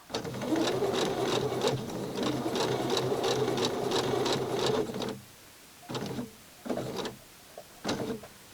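A sewing machine stitching Barbie doll clothes runs in a loud, close, steady whirr for about five seconds, then gives three short bursts with pauses between.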